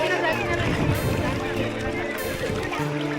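A boat crosses the water at Barasat's Bortir Bil wetland, a low steady hum with some wind noise, heard beneath people talking close by.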